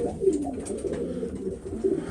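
Pigeons coo softly inside a pigeon loft in Bibrka, low murmuring calls repeating close by against quiet background rustle, with no talking.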